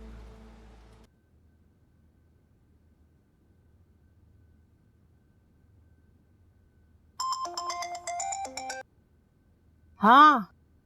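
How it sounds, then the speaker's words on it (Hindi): A mobile phone ringtone breaks a quiet room as a short electronic melody of bright repeating tones, followed by a brief loud warbling chirp. "हाँ शुक्र है नायल, तुमने खुद ही फोन कर लिया"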